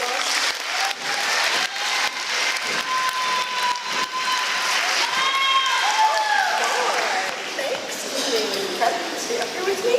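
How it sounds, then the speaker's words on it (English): Audience applause welcoming a presenter at an event announcing University of Waterloo Math Contest results: a dense, sustained wash of clapping lasting several seconds, with voices mixed in. "Round of applause."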